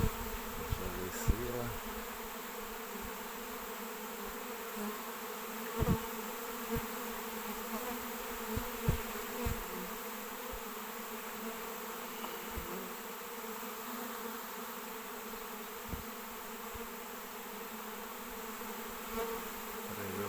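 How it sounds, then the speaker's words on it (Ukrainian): A honey bee swarm settles on a tree with a dense, steady buzzing drone held throughout at moderate level, broken by a few faint knocks and clicks, outdoors, with no speech. "Так формується рій на дереві."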